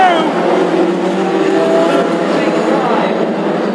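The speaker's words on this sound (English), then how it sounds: "racing in classic hot rods in 2016" Classic hot rod race cars competing at Ipswich in a national championship heat, with engines roaring in a loud, continuous, wavering drone and a voice faintly present beneath.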